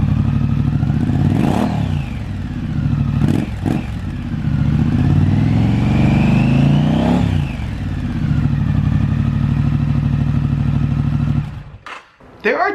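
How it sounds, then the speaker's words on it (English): A Triumph Scrambler 900 motorcycle with its stock factory exhaust runs up close. It revs several times with rising and falling engine pitch over a steady idle, then cuts off abruptly near the end. "what that exhaust sounds like in more detail when it comes straight from the factory"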